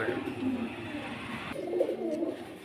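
Soft, throaty cooing of running pigeons close by, a continuous rolling coo that shifts pitch partway through.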